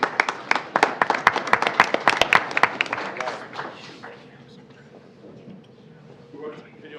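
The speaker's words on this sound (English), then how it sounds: "Round of applause for her family who are in attendance this evening." A small audience at a school board meeting claps for a student's family: a few seconds of sparse, distinct hand claps that quickly fade, followed by a quieter room with some talking.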